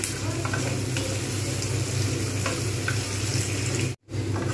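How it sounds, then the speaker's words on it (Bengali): Onions frying slowly in a pan for moong dal with katla fish head, cooked in Bengali festive style; a loud, dense, continuous sizzle with faint stirring scrapes, broken by a sudden short dropout near the end. "বেশ কিছুক্ষণ সময় নিয়ে আমি পেঁয়াজটাকে ভালোভাবে ভেজে নেব।"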